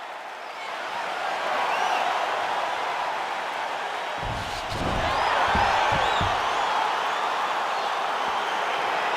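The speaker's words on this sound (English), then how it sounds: "crowd getting excited as this fight gets underway" Arena crowd noise from a UFC 4 octagon bout between Israel Adesanya and Robert Whittaker, a steady broad roar of spectators swelling midway with a few thuds and claps, no commentary over it.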